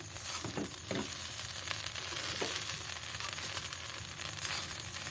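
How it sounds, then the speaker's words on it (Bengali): Chira pulao, a flattened-rice dish, is stirred in a pan after resting under a lid. A soft, continuous frying hiss runs throughout, with a few faint scrapes from the stirring. "দশ মিনিট পরে ঢাকনাটা তুলে নিলাম এবার একটু নেড়ে দেবো"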